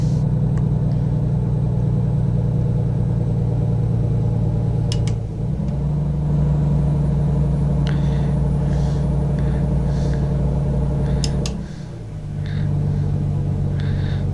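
Truck in American Truck Simulator hauling a load of nuts, its engine laboring in a steady, loud low rumble that drops in pitch twice as gears shift, with no talking.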